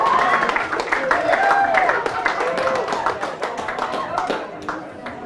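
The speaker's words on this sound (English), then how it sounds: "A round of applause for WSP." Audience at a PR and communication awards ceremony applauds, a continuous patter of clapping with voices mixed in, fading slightly toward the end.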